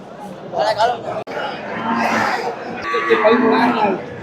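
Cattle at a busy livestock market, a cow lowing amid steady crowd chatter and someone speaking loudly nearby, the animal calls partly buried under the talk.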